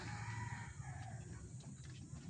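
A chicken caught in a trap clucks and squawks faintly and continuously, heard from a short distance with no talking.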